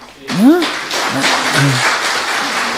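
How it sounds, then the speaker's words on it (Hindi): A gathering at a Brahma Kumaris murli session breaks into a short burst of clapping right after a voice rises briefly at the start, the applause moderately loud and fading over a few seconds. "ताली बजाओ भाई"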